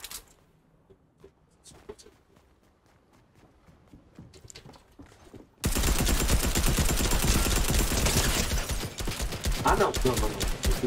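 Gunfire in the video game Fortnite: after a quiet stretch with scattered faint sounds, a loud, dense burst of rapid shots erupts and continues to the end.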